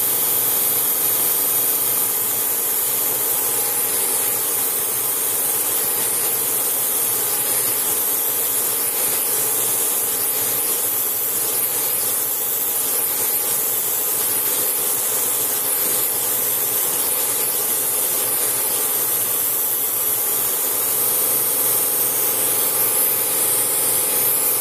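Bench grinder stone being dressed with a diamond dresser, giving a steady loud continuous grinding hiss and whine that runs unbroken throughout, close up, with no talk.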